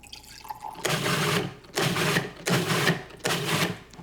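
A food processor pulses plant-based pesto with a little added water, four short whirring bursts of about half a second each, separated by brief pauses, close and moderately loud.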